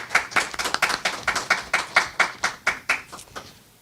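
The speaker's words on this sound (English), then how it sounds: "let's give it an applause to Terrence, another rock star" Rhythmic unison clapping at a university entrepreneurship week event, about fifteen evenly spaced claps that fade toward the end, fairly close, with no talk over them.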